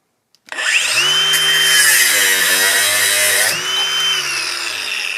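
Ryobi brushless angle grinder whining loudly as it cuts, a steady high-pitched spin that runs for about three seconds, then drops in pitch as the motor cuts out and winds down.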